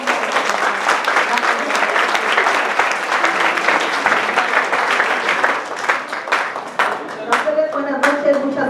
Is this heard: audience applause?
yes